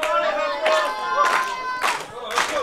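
A packed wrestling-show crowd cheers and roars in repeated swelling bursts, with claps and shouts rising about every half second over continuous crowd noise.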